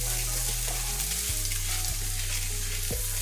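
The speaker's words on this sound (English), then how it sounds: "Let's just let the rice toast a little with the seasonings and the peppers and the onions." Rice toasting in a pan with seasonings, peppers and onions makes a loud continuous sizzle with a low steady hum and a few soft knocks, close and without speech.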